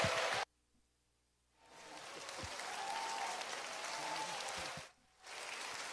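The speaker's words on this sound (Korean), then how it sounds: "우리 김용희 선교사님 나오실 때 박수로 하나님께 영광 돌리시고" A church congregation breaks into sustained applause as a missionary comes forward to speak, the clapping swelling after a brief pause and dipping once before resuming, broad and steady across the hall.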